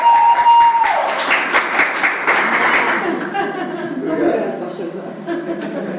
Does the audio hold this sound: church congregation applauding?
yes